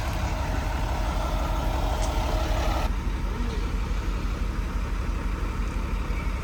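A tow truck idles as a Mitsubishi Evo X is loaded onto it, its low diesel rumble steady and close throughout, with a higher whine cutting out partway and voices talking faintly over it.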